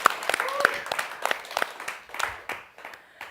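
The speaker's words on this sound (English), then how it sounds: "Round of applause for Brian." A small studio audience on a talk show gives a brief round of applause, heard as sparse, distinct claps rather than a full roar. Voices speak briefly over and after the clapping.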